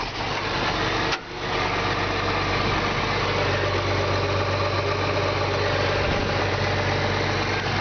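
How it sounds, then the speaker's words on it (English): A 1977 Allis-Chalmers tractor engine catches with a brief start and then settles into a steady, loud, rumbling idle heard up close. "I'm going to go ahead and fire the tractor up, and then Dave is going to get in the tracto"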